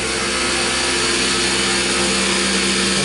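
A CNC lathe cuts a metal tool post riser block at about 40 thousandths width of cut and 4,000 RPM, giving a steady, dense machining whine and grind that stays loud and even throughout.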